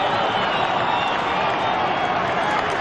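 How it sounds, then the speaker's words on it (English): A stadium crowd at a 1997 AFL match between Fremantle and Hawthorn roars steadily and loudly after a kick at goal, a broad, sustained wash of cheering throughout. "Crowd reaction behind should tell us."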